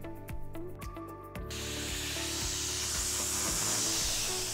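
Rhythmic mechanical clicking gives way to a loud, continuous hiss of a coating being sprayed onto a manhole surface during rehabilitation, filling the rest of the clip.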